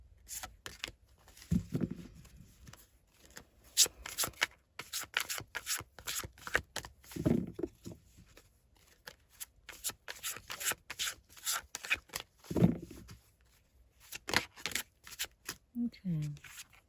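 Tarot cards being shuffled and handled during a reading: soft papery rubs and flicks scattered through the clip, fairly quiet, with a voice talking in between.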